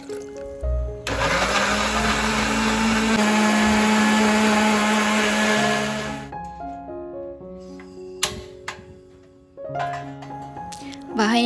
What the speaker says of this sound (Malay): Kita blend bawang ni sampailah dia hancur.